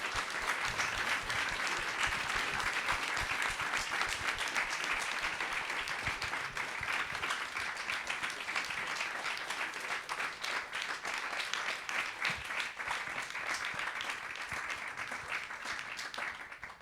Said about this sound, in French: je vous demandais d'applaudir encore une fois